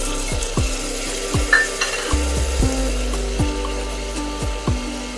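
Peas going into roasted spices in a pan and being stirred, with repeated scraping strokes of a spoon over a steady sizzle. The strokes come at an uneven rhythm, close and fairly loud, and no one speaks.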